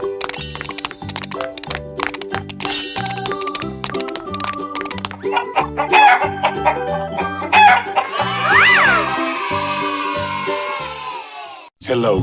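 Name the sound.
chicken crowing in a 3D animal slide video game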